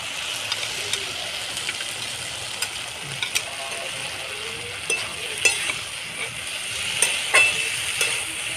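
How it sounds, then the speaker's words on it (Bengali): Fried shrimp stirred into taro stolons cooking in a pan make a soft, steady sizzle under repeated spoon scrapes and clicks against the pot, close and fairly quiet. "ভেজে রাখা চিংড়ি মাছটা দিয়ে দেবো"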